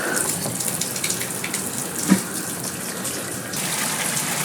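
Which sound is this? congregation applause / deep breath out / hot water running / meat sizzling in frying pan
hot water running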